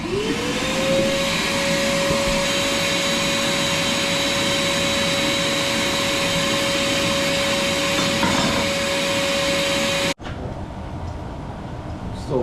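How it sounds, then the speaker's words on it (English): A pump forcing maple syrup through a filter canister, a loud, steady mechanical whine and drone with a constant tone that runs unbroken before cutting off abruptly near the end. "he's forcing it through with a pump"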